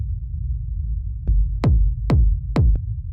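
Dark techno reverb kick passing through an auto filter, with four deep thuds whose filtered tails sweep down from bright to low over a rumbling low drone, punchy and isolated.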